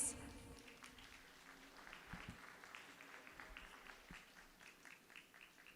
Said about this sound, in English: Huge round of applause for all our esteemed guests.